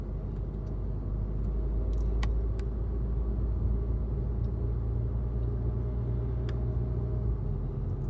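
Inside a car on the road: a steady low engine and tire rumble with road noise throughout, and a few faint clicks and creaks from the cabin. No one talks.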